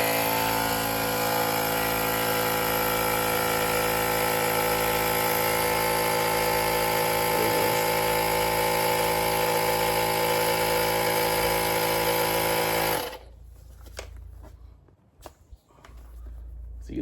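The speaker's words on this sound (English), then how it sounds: "we're just gonna go ahead and try to use this to inflate our football here" Portable 7000A jump starter with built-in air compressor pumping up a football: a loud, steady buzzing drone runs unbroken for about thirteen seconds, then cuts off abruptly, leaving quiet handling noises.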